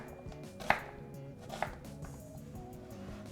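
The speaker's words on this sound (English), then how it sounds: "I'm just going to cut it in half and then cut down the onion" Knife chopping an onion on a cutting board for beef stew, two sharp distinct chops about a second apart over a quiet kitchen with soft background hum.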